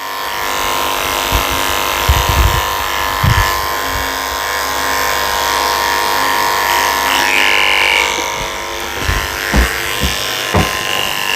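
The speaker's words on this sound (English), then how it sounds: "So I'm going to use a 10 blade under her arms just to shave those out." Electric clippers fitted with a 10 blade shaving under the arms of a Yorkie, a steady close buzzing hum throughout, with short bursts and bumps as the blade moves against the coat.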